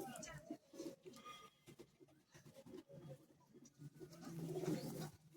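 Soft, low cooing from a Madras pigeon repeats through the clip, with faint background voices and handling noises; the cooing swells louder toward the end.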